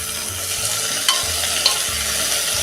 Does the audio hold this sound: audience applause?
no